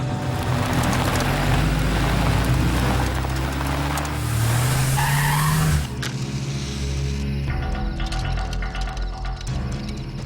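A car races off in a movie chase, its engine roaring loud and steady with tires squealing and skidding before the sound cuts to a busier mechanical clatter near the end.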